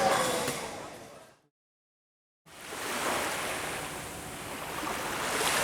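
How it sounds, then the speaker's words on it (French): Surf washing onto a small beach in Penang national park, a broad steady rush of breaking waves, cut off by a second of silence midway, then resuming and swelling slightly, no voices. "petite plage paradisiaque du parc naturel de Penang"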